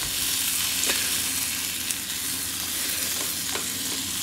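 Sliced Kassler and noodles fry in a pan over a Bushbox XL stove outdoors on a terrace, a steady loud sizzle with occasional scraping clicks of stirring, no voices.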